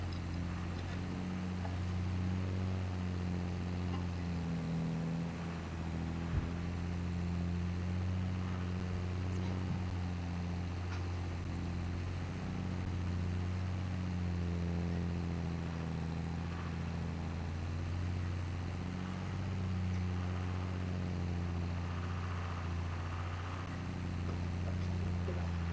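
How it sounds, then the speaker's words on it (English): Tractor engine in Farming Simulator 25 drones steadily while hauling an oversized plow, a low continuous hum with a few faint clicks and no talking. "this plow is probably a little too big for this tractor"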